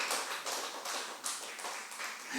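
A church congregation at a Friday worship service claps steadily for over two seconds, a dense, even patter of many hands at moderate distance with no voices over it.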